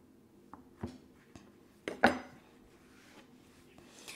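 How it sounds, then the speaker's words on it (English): A knife cutting a wonton pastry sheet in half on a board: quiet, scattered taps and clicks of the blade against the surface, with one louder knock near the middle, and no talk. "I'm just going to cut my pastry in half lengthwise"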